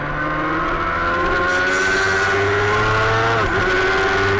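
Racing motorcycles on a track during a Formula Femme race scream at high revs in a sustained, loud drone, with one slight dip in pitch as they brake and accelerate.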